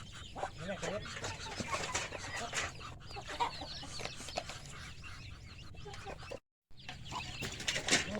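Chickens clucking around a rice field, a steady chatter of calls with occasional wing flaps, close by and fairly loud, with a brief dropout near the end.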